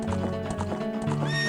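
Horse from Zelda: Ocarina of Time neighing loudly over steady in-game hoofbeats, the whinny rising at the end; game music plays underneath.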